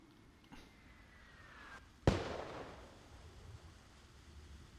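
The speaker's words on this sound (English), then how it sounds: "And there's your illume rounds" Illumination mortar rounds in the video game Arma Reforger: a faint whistle, then one sharp, loud burst that decays with a crackling tail over low background ambience.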